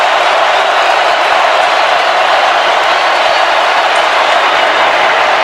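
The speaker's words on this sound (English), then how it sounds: "the crowd is wound right now on 3rd down and 7" A packed stadium crowd at the 2019 Georgia vs Auburn college football game roars in a steady, loud, unbroken wash of noise on a tense third down, with no distinct voices standing out.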